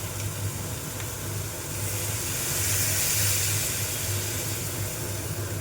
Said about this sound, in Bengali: গুগলিটা নাড়া হয়ে গেছে, এবার আমি এর মধ্যে জল দিয়ে দেবো।